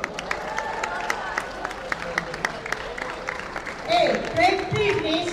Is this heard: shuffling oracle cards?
no